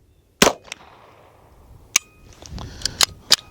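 Gunshots fired with a red dot sight at golf balls outdoors, sharp cracks with one early shot, then a cluster of several quick shots with faint impact pings after them, fairly loud and without talk.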